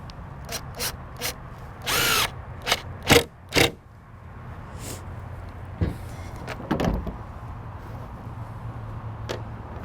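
A power drill drives screws into pallet wood while a workbench is assembled, with several brief bursts and short whirring runs spaced irregularly, plus scraping and handling noises in between, all fairly close.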